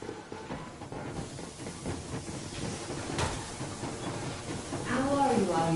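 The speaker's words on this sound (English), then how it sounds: "Yermak, full steam ahead" Steam train moving in the Metro Exodus video game, a rumbling, hissing rail sound building gradually beneath a speaking voice.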